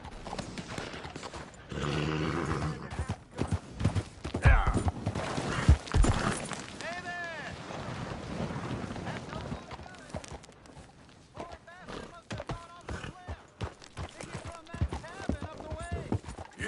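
Horse hooves clip-clopping and running in Red Dead Redemption 2, steady rhythmic hoofbeats under game sounds, with a voice talking over parts of it.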